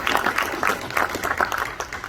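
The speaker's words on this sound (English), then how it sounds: "So I'm going to give a big applause to the leadership for that." Audience applause at a high school and technical center dedication ceremony, a moderately loud, continuous patter of many hands clapping with a slightly pulsing rhythm.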